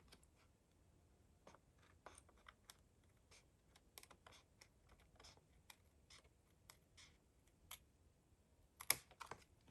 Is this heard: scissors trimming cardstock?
yes